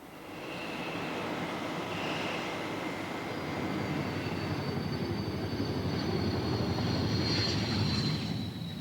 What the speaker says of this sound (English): The aging Hunters at Boscombe Down remain the only swept-wing aircraft in the world that are routinely spun inverted.